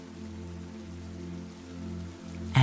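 Light drizzle falls steadily in a garden, a soft continuous patter and hiss that stays even throughout, ending in a brief louder knock.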